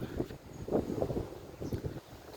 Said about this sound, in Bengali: বাতাস, অনেক বাতাস, প্রচুর বাতাস।